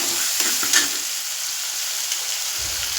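Sago pearls (sabudana) hit a hot pan for upvas khichdi, giving a bright continuous sizzle with a quick clatter of stirring early on, alone and close.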